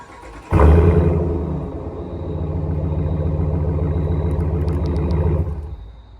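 A 2020 Ram 1500 Limited pickup's engine catches after a remote start, a sharp burst of revving that settles into a steady, deep idle rumble close by, fading near the end.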